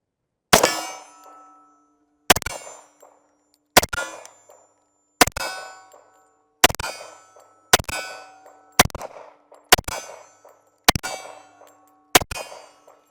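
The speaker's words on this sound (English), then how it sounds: "I'm going to shoot from double action first, kind of get a feel for the trigger" An H&K USP pistol fires .40 Smith & Wesson rounds at steel targets outdoors, about ten sharp single shots at a slow, uneven pace, each followed by a ringing metallic clang from the plate.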